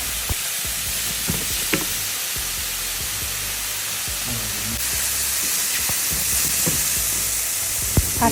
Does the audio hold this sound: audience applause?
no